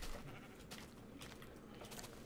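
A Minecraft sheep bleats in short, quiet calls over faint game background.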